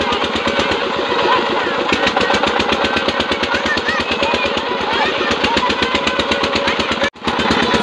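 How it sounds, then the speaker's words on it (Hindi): A diesel irrigation water pump engine chugs loudly and steadily in a rapid, even rhythm after starting, with a brief dip near the end. "so guys finally engine start हो गया"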